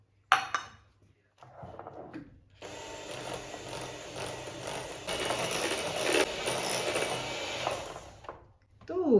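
An electric mixer beats all-butter cookie dough made with Austrian butter. It whirs steadily and mechanically for about six seconds, with some short clatter before and after.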